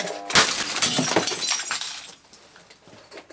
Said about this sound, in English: It'll make quite a loud bang.